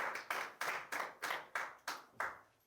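Congregation applauding in a French-speaking church service, a steady rhythm of about eight sharp hand claps, evenly spaced and fairly faint.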